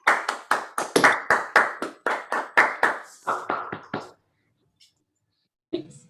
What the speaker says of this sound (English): Can I ask everyone to unmute themselves and we can all have a round of applause?